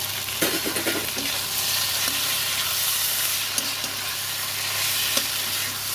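Chopped tomatoes fry in a pan for a Bengali aloo paneer curry, giving a steady, soft sizzle with a few scraping stir strokes of a utensil and no speech.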